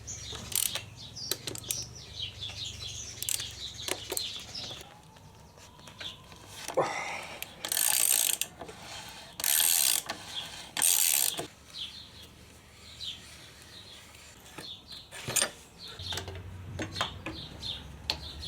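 Metal tools clatter and ratchet while the front wheel comes off a Suzuki DR650 motorcycle, with irregular clicks, clanks and several loud bursts of handling noise close by in a quiet workshop.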